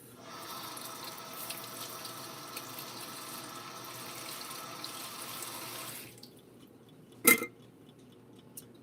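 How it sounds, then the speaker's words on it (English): Tap water runs steadily over apples being rinsed at a kitchen sink for about six seconds, then stops, followed by a single sharp clink and a faint drip in the quiet. "Okay, rinse it off."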